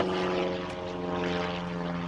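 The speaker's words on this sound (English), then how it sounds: "goes an airplane." A propeller airplane drones steadily overhead at a junkyard, a loud, even engine hum with a buzzing tone that holds for a couple of seconds.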